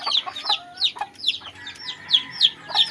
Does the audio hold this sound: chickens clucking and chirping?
yes